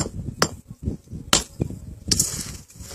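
A hammer strikes stone while paving blocks are shaped by hand in rural Paraíba, Brazil. Four or five sharp, ringing cracks sound close by at uneven intervals, with softer knocks and scraping of stone between them.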